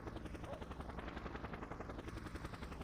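A helicopter in the video game Just Cause sends out a steady, rhythmic rotor thump and engine drone. It stays fairly faint and continuous across the whole stretch.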